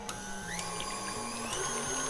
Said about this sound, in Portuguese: Eu tô usando batedeira planetária aqui